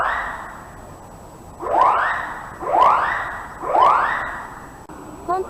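A shopping mall fire alarm going off by mistake, sounding three rising, sweeping electronic whoops about a second apart that echo through the large indoor space.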